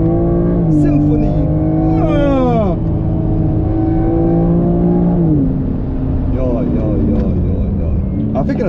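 A BMW M3 or M4 from 2021 accelerates hard on a race track, its engine rising loud and close through several gear changes, with excited talk over the roar.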